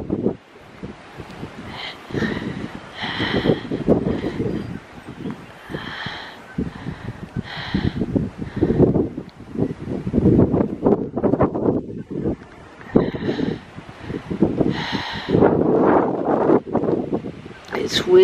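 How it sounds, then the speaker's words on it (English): Chilly outdoor wind gusts across the microphone in uneven rumbling bursts, a close, buffeting roar that rises and falls under a person talking throughout. "This wind and this chilliness."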